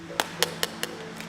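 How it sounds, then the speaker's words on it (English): Four crisp metallic taps on a good sealed tin of Conservas Pinhais canned fish, evenly spaced and fairly loud, over a faint steady background hum. "This is the sound of a good tin,"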